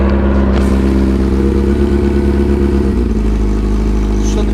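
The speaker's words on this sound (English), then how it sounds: "That's the bike without the exhaust on, so it is quite loud." Suzuki RF600R motorcycle engine running with no exhaust fitted and on choke, a loud raw continuous idle and rev with heavy low rumble and clatter, close up and steady throughout.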